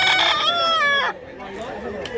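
A rooster at a gamefowl seller's yard in Mantalungon, Barili, Cebu lets out a loud, close crow that breaks off after a second, followed by softer clucking in the background.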